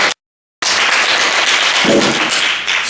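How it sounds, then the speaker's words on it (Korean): Dense, steady audience applause at the opening ceremony of the 13th Yun Dong-ju literature and arts festival, welcoming a professor before his lecture; loud crowd clapping fills the room continuously after a brief silent gap, with no talk over it. "강연 듣기 전에 격려의 큰 박수 부탁드리겠습니다"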